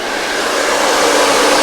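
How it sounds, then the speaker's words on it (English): A hair dryer blowing on dry hair during styling, a loud, steady close whoosh of rushing air with a faint whine, continuous and alone throughout. "take a hairdryer and a brush with the dry hair"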